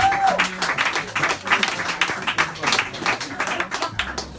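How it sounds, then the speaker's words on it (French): At a jazz club concert, the crowd claps for the bass player, with uneven, sparse-to-moderate applause and distinct close hand claps over a quieter room, and a short tonal note rings at the start. "On applaudit très fort, s'il vous plaît."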